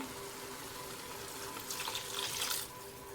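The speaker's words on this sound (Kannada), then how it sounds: "ಇವಾಗ ಇದಕ್ಕೆ ನೀರು ಹಾಕಿ ಬಿಟ್ಬಿಡ್ತೀನಿ ಕುದಿಯೋಕ್ಕೆ." Water is poured from a tap-like stream into a pot of mutton curry with freshly ground masala, a short, fairly loud splashing rush that rises briefly mid-clip over a quiet kitchen hum.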